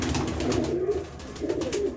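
Pigeons coo close by, two soft throaty coos separated by a short pause, over low background noise.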